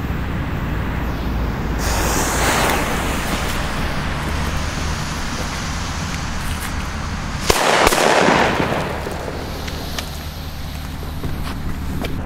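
Two New Year's Eve firecrackers set off at once: a sharp bang and a burst of crackling, following earlier hissing and crackling outdoors.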